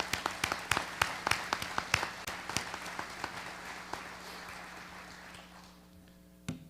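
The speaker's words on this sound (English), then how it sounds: "Let's give our police department in Muncie a round of applause." A community-meeting audience applauds the police department with sparse, distinct claps, fairly quiet and thinning out over several seconds before a last lone clap.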